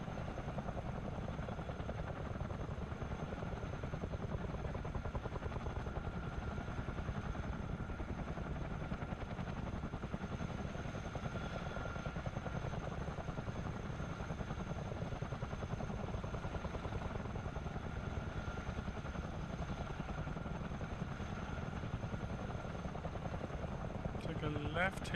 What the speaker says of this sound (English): I'd sit here all day and listen to the sound of the engines